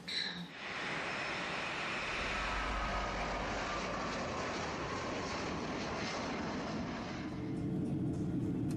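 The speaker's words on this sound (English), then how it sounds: "the plane entered Ukrainian airspace" The airliner on Flight MH17 flies with a steady, loud engine roar that holds continuously from the first second to the end, with no voices.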